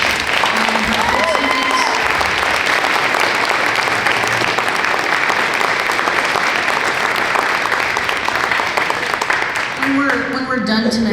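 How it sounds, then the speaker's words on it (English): An audience at a school jazz band concert gives a loud, dense round of applause for a teacher, clapping steady and close for about ten seconds, with voices surfacing near the end as it fades. "Can we give another round of applause to Mrs."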